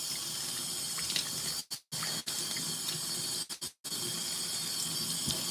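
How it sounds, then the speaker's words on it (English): Water hisses steadily from a tap, rinsing a part of an LG ThinQ washing machine, close and even, broken by two brief pauses where the flow stops and restarts. "Before I actually spin it, I'm going to kind of rinse it one more time"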